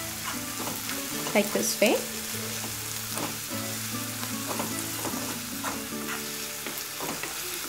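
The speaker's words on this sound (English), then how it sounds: "And now again, I will stir it" Masala with turmeric powder, sugar and salt being stirred in a frying pan, with a steady sizzle of frying and intermittent scraping strokes throughout, close and moderately loud, while music plays underneath and a few words are spoken.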